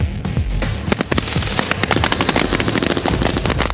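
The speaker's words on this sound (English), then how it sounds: "my lead scout will spot the enemy patrol. He will immediately put fire down." Rifle fire from a patrol's lead scout during a tactics demonstration: dense, continuous volleys of sharp gunshots, loud and overlapping, with no speech.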